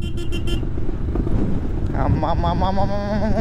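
Heavy wind buffeting the microphone, constant and rumbling, with a voice speaking over it and a brief whistling tone partway through, while riding a motorbike in Ramechhap.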